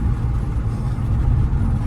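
A Porsche 911 engine runs at low revs while driving, a steady deep rumble that fills the clip without breaks or talk.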